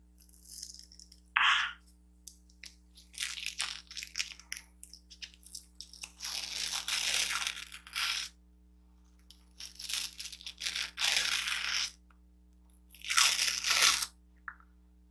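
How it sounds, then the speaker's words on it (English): A gold Masqueology peel-off face mask for fine lines and wrinkles is pulled away from the skin in irregular close bursts of crackling, tearing rasps, with short pauses between pulls and no talking. "it's time to go ahead and peel this mask off"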